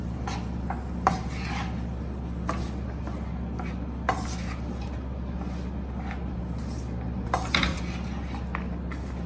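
Cooked rice being mixed into a pan of seasoning for South Indian lemon rice: soft repeated rubbing and scraping of a spoon against the pan with occasional sharper knocks, close and steady, no talking.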